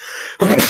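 A single sharp sneeze bursts out loudly and close, preceded by a brief breathy intake over a hissy background.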